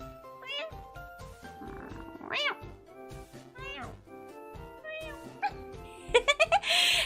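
A person imitating a cat, producing a string of realistic meow-like vocal calls with rising and falling pitch, fairly close and moderately loud, ending in a quick burst of short repeated mews.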